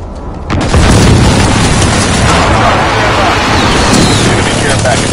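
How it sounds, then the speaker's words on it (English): Airstrike explosions in the Call of Duty Modern Warfare video game: a sudden loud boom swells into a long, roaring wall of blasts and rumble that stays heavy and close throughout. "Enemy precision airstrike inbound."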